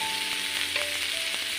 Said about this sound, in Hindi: इस प्याज को अच्छी तरह से नरम कर लेंगे